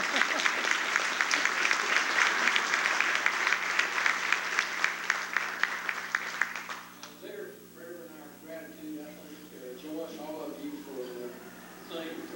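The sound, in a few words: round of applause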